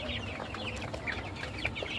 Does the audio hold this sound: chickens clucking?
yes